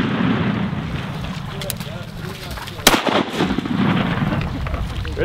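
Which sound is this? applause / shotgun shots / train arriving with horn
shotgun shots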